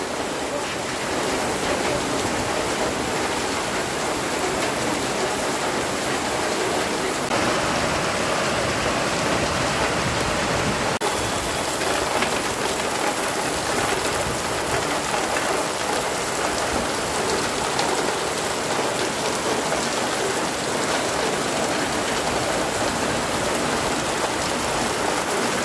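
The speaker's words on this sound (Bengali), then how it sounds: "কি বৃষ্টি দেখুন, কি বৃষ্টি, খুব জোরে বৃষ্টি হচ্ছে।" Heavy rain pouring down steadily, a dense, loud and unbroken hiss of water falling on surfaces for the whole stretch, with no talk over it.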